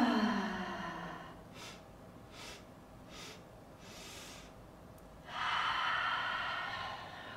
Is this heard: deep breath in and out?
yes